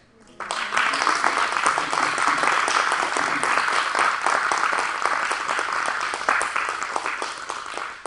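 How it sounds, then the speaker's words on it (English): Sustained applause from an audience at a talk, many hands clapping densely and loudly for about eight seconds with no pause or voices. "give him a hearty round of applause as a way of thanks"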